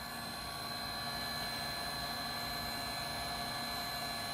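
Humminguru ultrasonic record cleaning machine drying a record, a steady, faint fan-like hum with a faint high whine, constant and unbroken with no voices.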